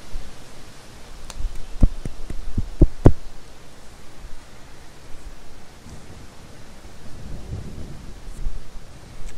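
Rain falls steadily in the Tower!3D Pro air traffic control game, with several sharp thunder cracks early on and a low rumble rolling in later.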